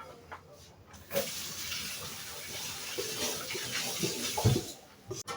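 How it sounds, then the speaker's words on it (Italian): Yule log cake batter pouring steadily into a baking tray, a continuous wet, close rushing flow lasting several seconds, ending with a few soft knocks. "andiamo a versare nella teglia"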